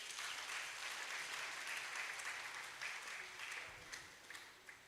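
An audience at a polytechnic valedictory lecture in Ibadan claps steadily for a few seconds, a dense even patter of hands with no voices over it.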